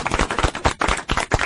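Studio audience at a radio talk show breaking into sustained applause, dense overlapping claps that swell and dip in loudness throughout, fairly close and filling the room.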